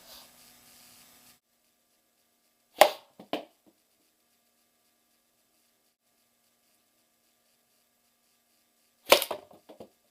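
Blowgun darts strike targets in two short groups of sharp thwacks, a pair of quick hits followed about six seconds later by a louder hit with a small rattling tail, each close and isolated in near silence.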